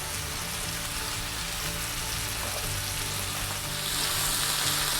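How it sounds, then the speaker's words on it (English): Floured chicken pieces fry in a pan for a golden-brown colour, giving a steady, close, dense sizzle and crackle that grows a little brighter and louder toward the end, with no talking. "we're just trying to get a little bit of colour on that chicken"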